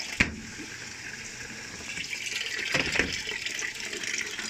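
Water pours into an LG top-load automatic washing machine that fills but will not start its wash cycle, a steady gushing stream with a couple of sharp knocks.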